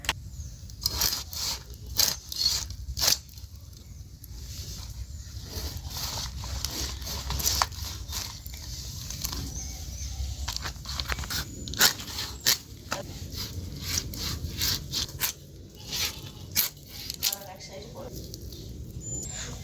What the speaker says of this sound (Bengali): এই যে এই মাছটার গায়ে কোনো আঁশ নেই, তবু একটু বটিতে ঘষে নেব